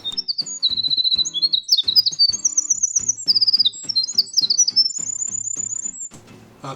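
A bird sings a clear, high, bright call in a conservation area along a rail trail, with rapid repeated chirps and trills in close succession, loud and near, with no voices.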